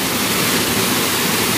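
A waterfall pours onto slippery rocks with light rain falling nearby, giving a loud, steady, unbroken rush of water close at hand.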